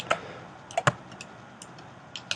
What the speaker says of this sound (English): Now we're going to hit an S on the keyboard, set a keyframe